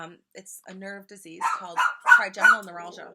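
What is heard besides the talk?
dog barking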